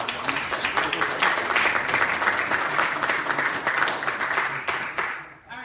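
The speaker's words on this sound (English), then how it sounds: "can we give him a round of applause?" Sustained applause from an audience after a speaker at a legislative agenda day event in Baltimore, steady dense clapping with a few voices mixed in, tapering slightly at the very end.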